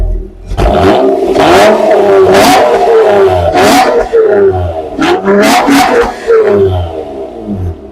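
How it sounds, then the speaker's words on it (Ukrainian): A Honda Accord engine with a Borla exhaust revs repeatedly in loud, throaty bursts, a deep rumbling exhaust rising and falling several times close by. "Вихлоп борла. Мурчить дуже прикольно насправді."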